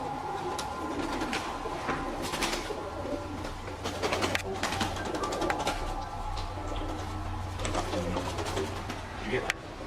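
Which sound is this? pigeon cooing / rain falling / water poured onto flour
pigeon cooing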